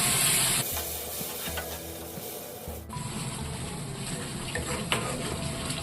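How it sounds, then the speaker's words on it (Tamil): Stirring sea bass fish curry with tamarind water and masala in a pan over a steady sizzling, watery background, with intermittent scraping and low knocks of a utensil, fairly close. "புளி தண்ணி சேர்த்து மசாலா கூட நல்லா கலந்து விட்டுருவோம்"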